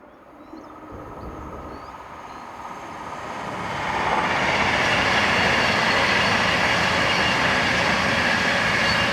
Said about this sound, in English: one of the half-hourly cross-country services, formed with units 221, 130 and 135 on the 1235 from Bristol to Birmingham,